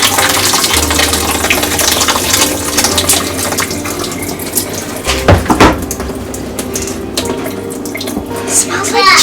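Water runs from a tap into a kitchen sink in a steady rushing stream. A brief clatter and splash interrupt it about halfway through, then it resumes.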